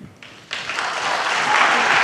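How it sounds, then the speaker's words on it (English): Audience applause at a US presidential debate, starting low and then swelling sharply into loud, sustained clapping and cheering from a large crowd. "Can we please hold the applause?"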